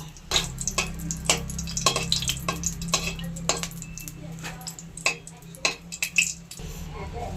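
A dried red chilli fries in a little oil in a wok while a utensil clinks and scrapes against the metal in repeated sharp strikes over a low hum and faint sizzle.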